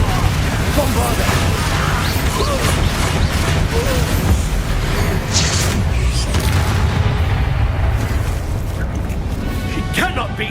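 Confringo and Bombarda blast spells in the Hogwarts Legacy video game, heard as dense, loud explosive bursts and crackling impacts over a busy mix of game effects and voices.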